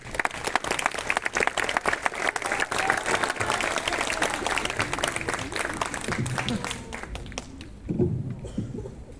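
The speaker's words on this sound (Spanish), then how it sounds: "Lo recibimos con fuertes aplausos." A hall audience gives strong applause to welcome a speaker at a talk on the Transit of Saint Francis, a steady wash of many hands clapping that thins and fades out near the end.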